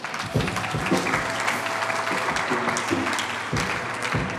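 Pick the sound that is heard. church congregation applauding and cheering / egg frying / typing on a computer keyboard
church congregation applauding and cheering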